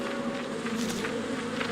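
Steady insect buzz from a small beehive in the video game Psychonauts, a continuous droning hum at moderate level with no talk over it.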